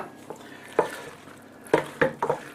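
Macaroni and cheese with diced ham is stirred in a dish, giving soft scraping and a few sharp clinks of a utensil against the container, spaced irregularly and close.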